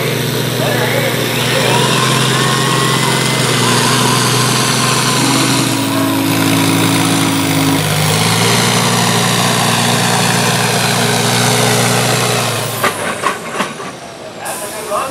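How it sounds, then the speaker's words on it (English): A pulling tractor roars at full load during a tractor pull at the Barry County Fair, a loud sustained engine drone with shifting pitch that cuts off near the end, with an announcer talking over it. "This is the Suzuki Tractor International."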